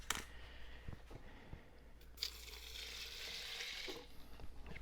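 Shellac flakes being stirred into denatured alcohol, faint scraping and clinking of the stirrer against the container in soft irregular strokes with a small tick here and there.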